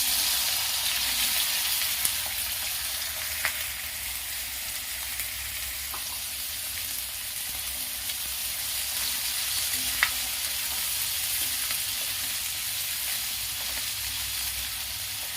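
Onions frying in a pan with asafoetida over low gas for a chicken curry, giving an even, continuous hiss with a few faint clinks, close and unbroken by talk.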